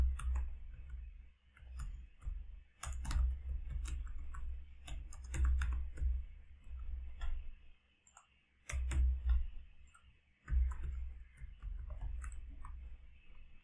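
Bursts of rapid keyboard typing as code is entered on a computer keyboard, clustered clicks in several runs separated by brief pauses, close and alone with no talk.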